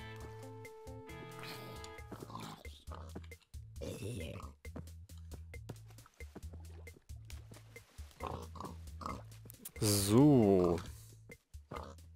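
Minecraft pigs oinking repeatedly in short grunts under a man's speech, with scattered clicking footsteps and a louder burst of squealing toward the end.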